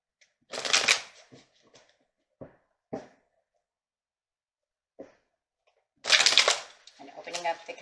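Chakra tarot cards are shuffled close by in two crisp riffling bursts, one near the start and one near the end, with scattered soft card taps and flicks between them.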